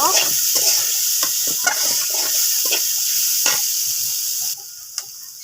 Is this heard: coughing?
no